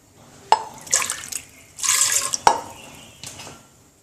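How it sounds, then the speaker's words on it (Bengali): Water poured from a measuring cup into a pressure cooker, two short splashing pours with light clinks between them, close and fairly quiet with no talk. "মেজারমেন্ট কাপে 2 কাপ পানি দেব।"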